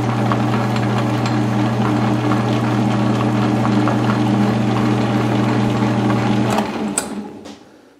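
Lathe making a machining pass while building an ER collet chuck, a loud, steady mechanical hum with a constant drone that runs for several seconds, then winds down and fades out near the end.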